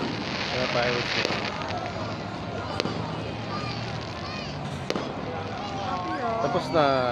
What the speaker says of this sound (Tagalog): Kaya fireworks nila.